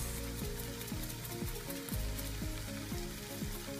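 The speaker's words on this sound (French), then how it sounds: "J'ai mis un peu d'huile d'olive dans une poêle et je vais les faire chauffer. Puis je rajoute mes champignons." Mushrooms fry in olive oil in a pan, giving a steady close sizzle with a repeating swishing rhythm through the whole stretch, with no voices.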